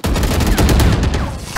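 Burst of rapid video game gunfire, several sharp loud shots in quick succession over about a second and a half, close and unaccompanied by speech.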